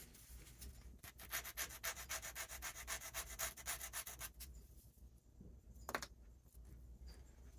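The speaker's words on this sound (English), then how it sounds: "Still needs a little bit of sanding." A balsa wing part for a Science Olympiad flight model is hand-sanded for a test fit, a rapid rhythmic scratching rub that runs steadily for about four seconds, then stops, leaving faint handling noises.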